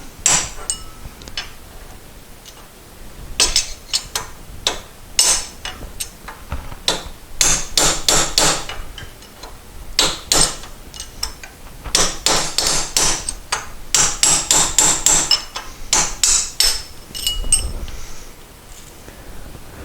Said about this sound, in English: I can just get down in there with a punch, knock the race out